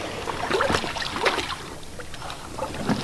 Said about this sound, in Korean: 오늘은 아내가 노를 저어 세상 밖으로 나가는 날